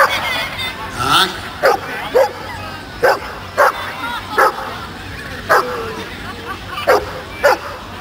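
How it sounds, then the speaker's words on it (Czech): A dog barks in repeated sharp bursts, roughly eight or nine evenly spaced barks, during a dog-handling demonstration at a village event in the Czech Republic, with a faint murmur of a crowd underneath. "Pes tedy štěká nekouše"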